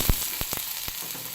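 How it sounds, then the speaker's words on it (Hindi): Steady sizzling of onions frying in a pan with occasional soft pops and crackles, close up and with no one talking. "अब इसको अच्छे से हमने फ्राई करना है, डार्क ब्राउन नहीं करना"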